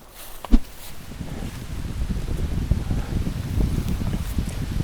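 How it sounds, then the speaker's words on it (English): Strong gusting wind sweeps through big woods on an Iowa or Missouri public-land hunting ground as leaves come down, a steady broadband roar and rustle that swells and eases throughout, with one brief louder knock near the start. "High wind day, as you can probably hear behind me, leaves coming down."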